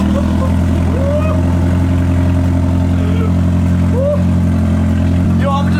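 A Toyota GR86 engine idles warm with no exhaust fitted, a loud, close, steady rumble with brief rises in pitch as it is revved, and voices talk over it.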